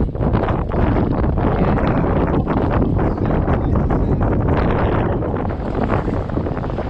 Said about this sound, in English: Trying to get jib to work, but we're kind of going right into this wind.